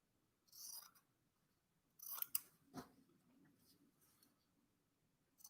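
Scissors roughly trim fabric around a hexagon shape, giving a few close, crisp snips and rasping cuts separated by quiet pauses.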